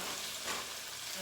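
Shrimp curry stirred in a pan, a steady broadband sizzle with soft scraping throughout, alone and fairly quiet.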